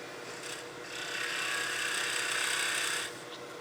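A steady rasping scrape of a spindle gouge cutting spinning wood on a lathe, rising louder for a couple of seconds and then easing back, with no voices.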